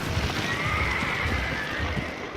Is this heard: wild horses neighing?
yes